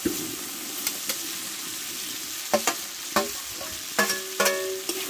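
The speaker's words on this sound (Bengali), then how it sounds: "এবার কষে রাখা করলাটা আমি ঢেলে দেবো।" Bitter gourd tipped into a pan of potato and spices, sautéing with a continuous sizzle under sharp, irregular clinks and scrapes of a spoon against the pan, close and fairly loud, with no talking.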